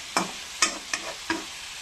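Vegetables for a fish khar being turned over in a pan, with four quick clattering stirs of a spatula against the pan over a faint background sizzle and no voices.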